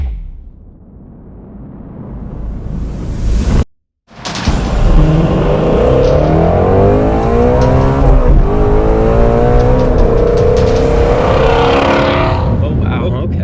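A Shelby GT350R Mustang's engine revs hard while driving on canyon roads, with loud rising and falling pitch sweeps after a brief cut, a sharp throttle blip midway and a voice talking over the cabin noise.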